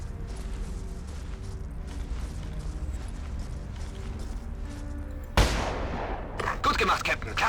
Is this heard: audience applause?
no